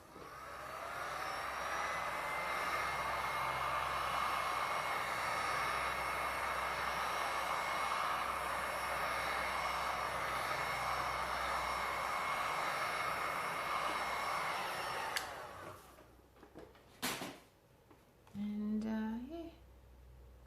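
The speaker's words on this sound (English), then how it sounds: "I just use my heat gun to soften it down a bit" A heat gun softening resin in a cool studio blows with a steady, loud, continuous whir for about fifteen seconds, then cuts off, leaving a few brief knocks and faint handling sounds.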